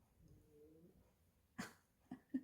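A dog indoors gives a few short, sharp barks, three separate yelps in quick succession near the end, following a stretch of quiet whimpering or breathing.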